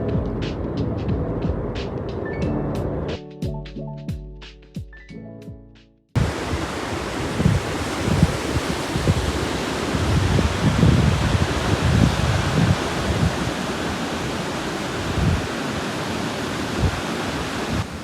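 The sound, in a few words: ocean waves and wind at a San Diego beach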